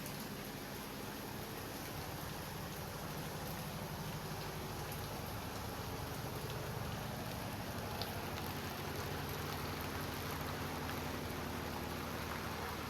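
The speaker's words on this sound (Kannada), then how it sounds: "ನೋಡ್ಬೋದು ಯಾವ ರೇಂಜಿಗೆ ಮಳೆ ಆಗ್ತಾ ಇದೆ ಅಂತ." Heavy monsoon rain pours over the hills of Karnataka as seen from a homestay, a dense, steady hiss of downpour that stays loud and unbroken throughout with no voices.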